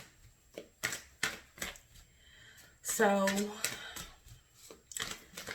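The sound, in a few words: shuffling tarot cards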